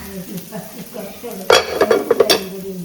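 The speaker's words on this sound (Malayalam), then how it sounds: "ചെറിയ ഉള്ളിയിലൊന്ന് മൂപ്പിക്കണം കേട്ടോ" Shallots stir-fried in a pan, with a soft sizzle under low background sound and then a burst of louder clattering stirring strokes near the end.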